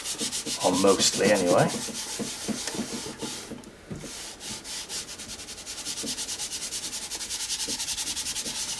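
A wet wipe scrubs stencil residue off a craft surface with steady rubbing and scraping strokes, louder at first and then settling into a continuous rhythmic swish, with a brief murmured voice near the start.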